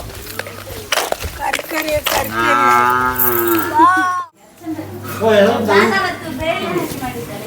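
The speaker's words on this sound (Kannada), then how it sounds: "ಹಸುಗಳನ್ನು ಮೇಯಿಸ್ಲಿಕ್ಕೆ ಅಂತೇಳಿ ಹೋಗ್ತಾರೆ ನೋಡಿ" Cows moo repeatedly, one long low call after another, as they are driven out to graze at a rural homestead, with people talking over and between the calls.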